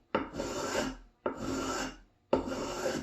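An old block plane shaves fine cuts from wood in three separate strokes, each a rough rasping hiss that starts sharply and runs about a second, close and fairly quiet with short pauses between.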